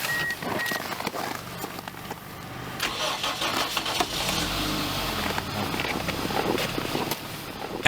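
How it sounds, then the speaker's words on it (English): Car engine cranking and catching in extreme Siberian cold: a loud, close, rough mechanical churn that builds into running, heard alone with no voices. "they attempt to start the vehicle using short cranks to avoid overloading the system"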